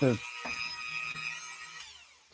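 A power drill whirs steadily at a high pitch after a brief clunk, running for about two seconds before stopping.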